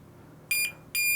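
A low voltage alarm buzzer fitted to an FPV goggle battery sounds two shrill electronic beeps, each about a quarter second long, separated by a short gap and heard clearly over a quiet background.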